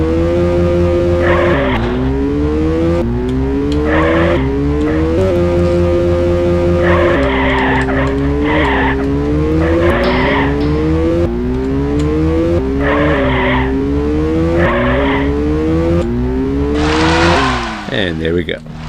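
Race cars in the video game Mini Car Racing, loud engine tones rising and falling with repeated tire skids and squeals, continuous and up close.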